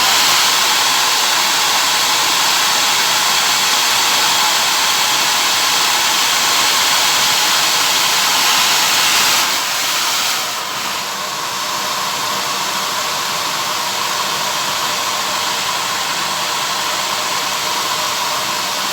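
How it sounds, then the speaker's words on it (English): A hair dryer blowing in a loud, steady whoosh throughout, heating parts of a Roberts RFM3 radio, its tone shifting slightly partway through as it is moved or adjusted. "I'm just heating it up with a dryer."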